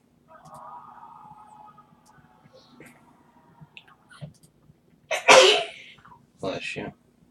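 A single sharp sneeze bursts out close by, followed a moment later by a second shorter sneeze, after a stretch of faint murmuring in a quiet room.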